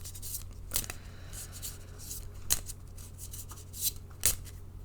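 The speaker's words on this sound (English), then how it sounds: "I'm going to shuffle until Spirit asks me to stop" A deck of Lenormand cards shuffled by hand, with soft papery rustling and several sharp riffling snaps spaced through, close and quiet over a low steady hum.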